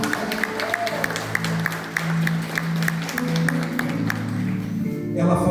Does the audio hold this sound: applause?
yes